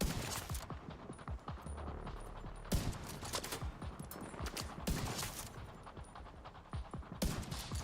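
Gunfire from The Division 2 video game: rapid bursts of automatic shots and scattered single reports, loud and continuous over several seconds with brief gaps.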